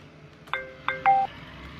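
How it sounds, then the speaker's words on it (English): Phone in Farming Simulator 25 rings with a short electronic tone: two quick chirps followed by a slightly longer held beep, clear and close over a faint background hum. "Oh, my phone's ringing."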